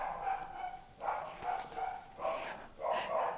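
Dogs barking indoors, faint and a little distant, with three or four soft bursts of barks spread over a few seconds under low room noise.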